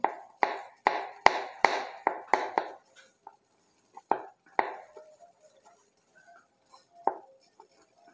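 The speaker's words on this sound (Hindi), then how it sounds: "ये जो मेरे पास मशरूम स्टेम्स जो मैंने निकाली थी मशरूम के पीछे से, इसको मैं फाइन चॉप कर लूँगा" Mushroom stems being finely chopped with a knife on a board: a quick run of sharp, close chops that thins out into a few scattered taps, with no talking.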